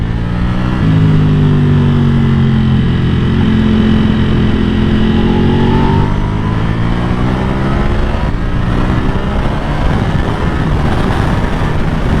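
A Ducati Panigale V4 SP2 sports motorcycle on new tyres is ridden on the road, its engine droning loud and steady close by, rising and shifting in pitch as it pulls along, with no talk.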